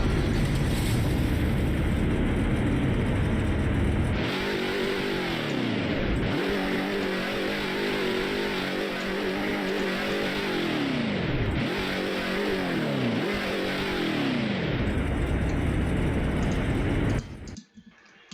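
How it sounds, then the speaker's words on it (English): A Roblox Greenville car engine runs loud and close, rising and dropping through several revs and gear shifts before cutting off abruptly near the end. "let's do the sound test first."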